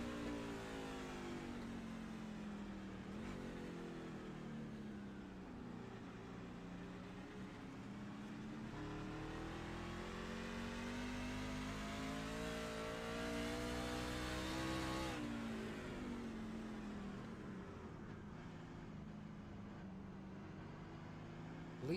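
A race truck's engine drones on board during a lap of the 3.5-mile Daytona track, a steady loud roar holding pitch with slow rises and falls as it shifts and accelerates, with no voices.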